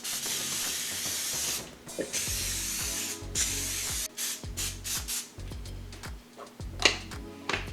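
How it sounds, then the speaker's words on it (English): Pam cooking spray greasing a muffin tin: a series of short, close hissing sprays in quick bursts with brief pauses between them, fairly faint, with no talking. "we're just going to grease it a little bit, and I'm going to use some Pam"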